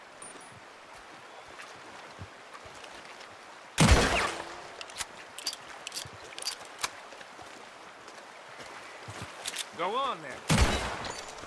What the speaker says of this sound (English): That lock should shoot off easy enough.